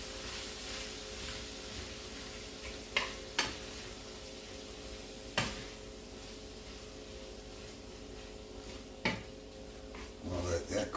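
Beef with green and red peppers sautéing in a pan, a steady close sizzle with occasional sharp utensil scrapes and clanks against the pan, busier stirring near the end.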